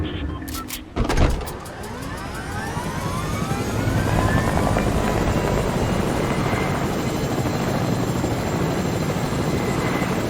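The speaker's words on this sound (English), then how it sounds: "Helicopter." Helicopter in a first-person shooter video game, its rotor beating steadily and loudly for several seconds after a brief burst of game noise at the start, with Doppler-like sweeping tones as it passes overhead.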